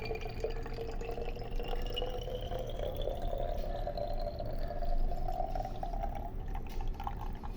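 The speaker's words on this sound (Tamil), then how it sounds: "இது நல்லா ஆறின பிறகு இந்த மாதிரி பாட்டிலில் இப்படி ஊற்றி வச்சுக்கலாம் நீங்கள்." Cooled homemade orange peel hair toner is poured into a bottle, a thin steady trickle of liquid with a faint rising tone as the bottle fills, quiet and continuous without any talking.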